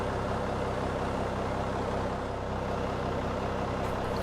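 A pushback tug in X-Plane 11 shoves an airliner backward, giving off a steady, loud diesel engine drone with a constant low rumble that holds unchanged throughout.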